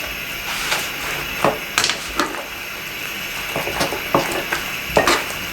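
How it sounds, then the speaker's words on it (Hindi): Pasta being stirred into a creamy white sauce in a pan, with scattered scraping clicks and soft knocks of a spoon against the pan over a low, steady background. "अब इसके अंदर ये पास्ता उठा के पास्ता मिक्स करते हैं बिल्कुल"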